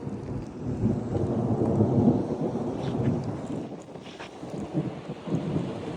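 Deep rolling thunder in Ras Al Khaimah rumbles steadily throughout, heavy and sustained, with rain hissing faintly in the background.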